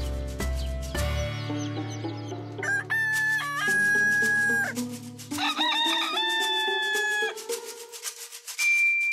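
Roosters at a poultry conservatory crow loudly one after another in drawn-out calls, with hens clucking around them, close and without talk.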